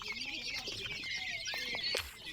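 Fourteen-day-old pet birds chirp in a continuous, fairly quiet high twitter, with a couple of slightly louder calls near the end and no one speaking.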